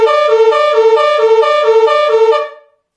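A directional emergency vehicle siren at its highest urgency level, loud and steady, with a rapidly pulsing, warbling electronic tone that repeats evenly for about two and a half seconds, then cuts off.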